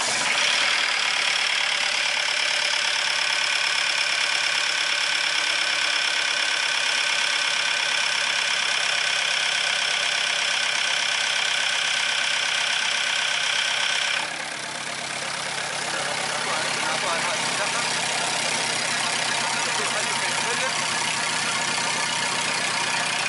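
A car engine idles roughly and loudly with a fault in its regulation, a steady droning hum with a harsh edge that shifts in tone about two-thirds through and then continues without any talk.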